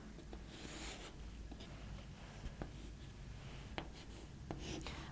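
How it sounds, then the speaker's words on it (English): Pencil strokes on paper draw a straight line, giving soft, scratchy sliding sounds with a few light taps, quiet and close in a faintly noisy room. "First we have to draw a line L."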